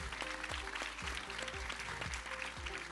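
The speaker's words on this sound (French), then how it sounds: "Et on peut les applaudir, bien sûr, oui." Applause for guests at a space industry forum sounds faint and distant, a continuous wash of clapping mixed with low rhythmic thumps and tonal background noise.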